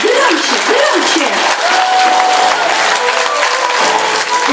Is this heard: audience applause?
yes